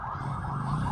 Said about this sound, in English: The usual ambulance.